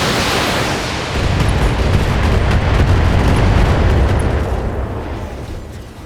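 Heavy weapon fire and explosions in BattleTech, the mech combat strategy game, roll together as a loud, sustained rumbling boom that swells and then slowly fades.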